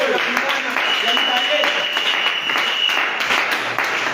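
A church congregation applauds steadily and loudly, filling the whole moment with dense clapping and mixed voices acclaiming God.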